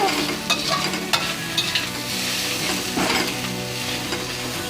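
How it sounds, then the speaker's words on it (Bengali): Hilsa fish head fries in a pan with spices, a loud steady sizzle broken by sharp scrapes and knocks of a spatula stirring, with no voices. "মাছের মাথাটা দিয়ে আমি মশলা দিয়ে একটু কষে নিচ্ছি"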